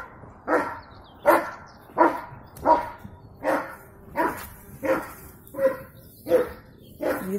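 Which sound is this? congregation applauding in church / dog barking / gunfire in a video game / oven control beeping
dog barking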